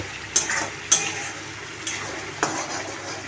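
Meat goes into a spice mixture cooked until the oil separates and is stirred over low heat. A soft frying hiss sits under several distinct scrapes and clinks of a utensil against the pot, close by, with no voices.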